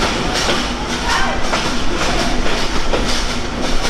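Loud, close noise of the Sundarban Express train with rhythmic clacking of wheels over rail joints and a constant rumble beneath.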